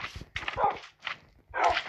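Several dogs bark and yip in quick succession in Minecraft, loud and close, with a sharp, slightly processed quality.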